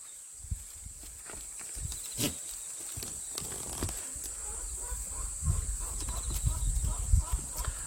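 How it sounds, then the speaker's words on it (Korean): Black goats kept for meat move about a farm pen while eating, giving soft scattered hoof steps and rustling with occasional louder knocks, fairly close, growing busier toward the end; a steady high electrical whine runs underneath. "이친구들이 흑염소고 얘는, 어, 보아라는 염소입니다."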